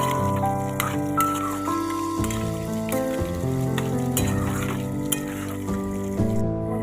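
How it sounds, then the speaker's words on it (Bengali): Potatoes frying with spice paste in a pan, a steady close sizzle running throughout with soft stirring clinks and scrapes on top, and faint background speech. "আলুগুলো দিয়ে ভালো করে কষে নিলাম আর একটুখানি কষাবো"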